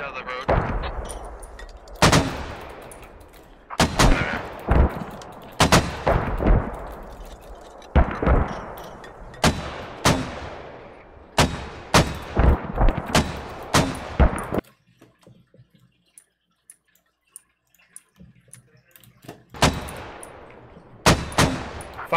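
Mortar rounds fire in the military shooter game Squad: a string of sharp, heavy booms in irregular clusters, then a quiet pause before more launches, with faint voice chatter at times.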